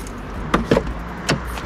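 Door of a BMW M5 being opened: a couple of quick mechanical clicks and a latch clunk close by, followed by another short click, against quiet outdoor background.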